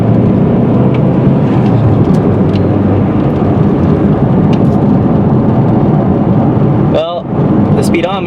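A car engine pulls hard through a very short first gear, giving a loud, continuous low roar that dominates throughout, with a brief rising whine near the end.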